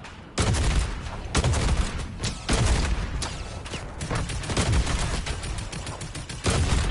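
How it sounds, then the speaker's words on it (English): Weapon fire in the Fortnite video game, where a rocket launcher is in use, comes through as loud, dense bursts of booming shots and explosions that repeat in rapid clusters across the scene. "Your rocket launcher, I think. Shoot"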